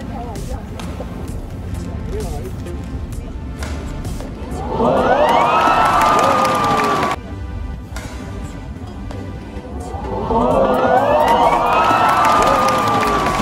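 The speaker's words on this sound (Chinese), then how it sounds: "难怪全场惊呼和掌声不断" Badminton arena crowd at the Taipei Open women's quarterfinal erupts in loud gasps and cheers with applause after a rally, heard twice in replay, rising sharply and sustained over court noise and commentary.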